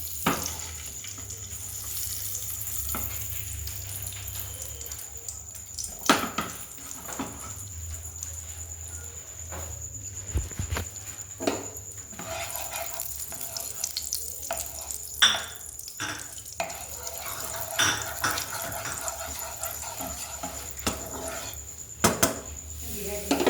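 Semolina roasts in ghee in a pan with a continuous sizzle, broken by spoon scrapes and clinks against the pan. A low hum runs underneath, and a voice is heard faintly at times.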